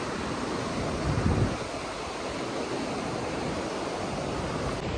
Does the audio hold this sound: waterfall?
yes